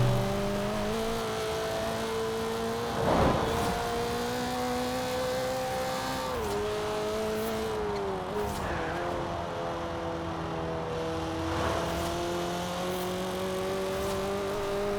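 A Honda Civic Type R engine drones steadily while driving in Forza Horizon 4, its pitch climbing and dropping through several shifts and revs, sounding close and continuous with no talking.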